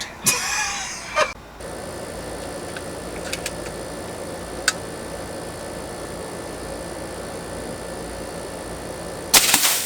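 A Benjamin Kratos .22 air rifle fires a single sharp, loud crack, followed a moment later by a brief thump of the pellet striking. A quiet outdoor lull follows, with a few faint ticks and another short burst at the very end.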